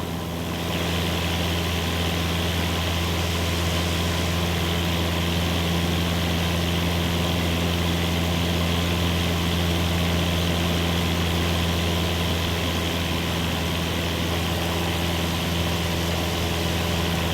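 A propeller airplane engine in Microsoft Flight Simulator 2024 drones steadily, a constant heavy hum with a strong low tone and no voices.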